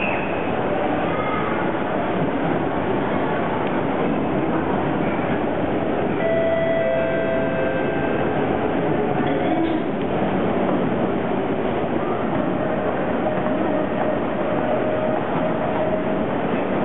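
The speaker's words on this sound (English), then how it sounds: "here's my train right now" A Singapore MRT train pulls in on the line to the airport, with a continuous loud rumble of wheels on rail, faint squeals and clatter, and a brief announcement-like tone partway through.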